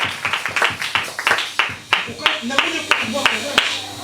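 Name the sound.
congregation clapping to acclaim Jesus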